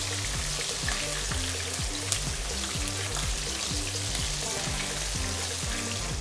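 Steady, loud sizzling and crackling from prawns frying in a hot pan over high heat, continuous throughout with no voices.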